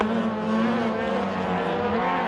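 A rallycross Ford Escort and a Mazda being driven hard side by side, a dense sustained engine roar at high revs, loud and close, with no talking.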